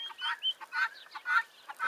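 Chickens cluck in a short run of repeated calls, with a rooster among them, fairly close and clear in a quiet farmyard stable.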